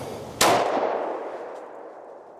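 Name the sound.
10mm pistol rounds fired at a target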